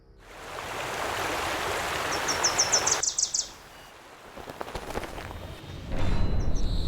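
A creek flows steadily as broadband water noise through the first three seconds, with bird chirps above it. The water quiets after that, leaving sparse rustles before a louder wash returns near the end.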